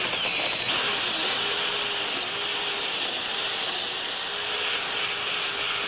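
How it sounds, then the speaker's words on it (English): A power drill bores a hole through a 2x4 joint on a chicken tractor frame, giving a steady, loud, high-pitched whine that runs unbroken for several seconds with no talking over it. "So let's drill this one."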